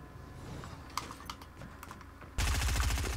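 The new submachine gun in the video game Fortnite fires a dense, loud rattling burst near the end, after quieter clicks and small game sounds.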